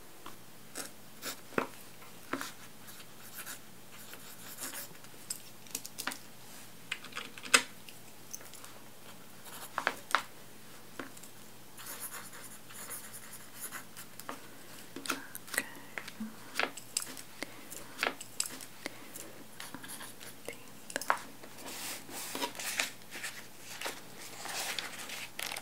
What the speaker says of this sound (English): I will be wrapping the books for you in this crinkly brown paper packaging.